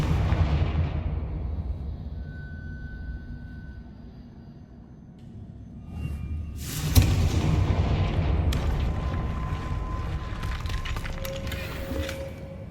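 Blasting-spell explosions from the Hogwarts Legacy video game roar through a loud, rumbling boom that fades and then returns as a sharp blast followed by sustained crackling debris, with no speech.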